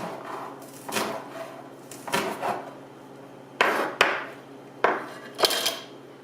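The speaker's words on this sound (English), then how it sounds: "I'm gonna go ahead and cut up my green onions" A knife chops green onions on a cutting board in a home kitchen, making a few spaced, crisp knocks in small clusters, close and fairly loud, with no talking.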